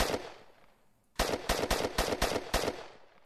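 An MP5 submachine gun in a video game fires single shots: about eight sharp, evenly spaced reports after a fading echo, each crisp and loud.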